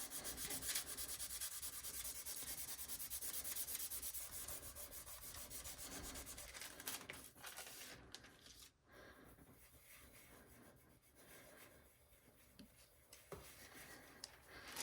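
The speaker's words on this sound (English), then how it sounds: "So rub that on." Gold leaf being rubbed onto polymer clay through a plastic stencil, a close, faint, steady scratchy rubbing that continues for many seconds and thins out toward the end.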